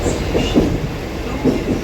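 Commuter train running on rails toward Dombivli station, a steady rolling rumble broken by periodic rhythmic clacks of wheels over rail joints, close and continuous, with no talking.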